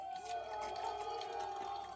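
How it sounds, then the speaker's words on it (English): Locals cheering rebels as heroes during a military mutiny, a faint, distant crowd roar with sustained shouting voices blended into a continuous wash of noise. "Locals cheering the rebels as heroes"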